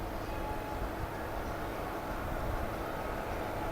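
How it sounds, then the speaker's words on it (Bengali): Local train pulling out of Majerhat station on the Kolkata circular railway, a steady broadband rumble and rattle of wheels and carriages, close and continuous without pauses. "রাইট টাইমেই চার নম্বর প্ল্যাটফর্ম থেকে ছেড়ে দিল ট্রেনটা"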